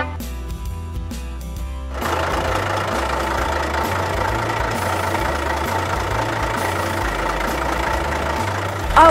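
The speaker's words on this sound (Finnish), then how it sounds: "Ja kuorma-auto." A toy truck engine starts up after a brief clatter and idles with a steady, loud, pulsing low rumble, without any talking.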